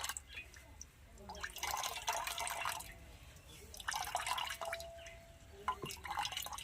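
Chhena, fresh curd cheese rinsed with cold water, is pressed by hand to squeeze out water for rasmalai, producing close wet squelches and dribbling trickles in several bursts with brief pauses between.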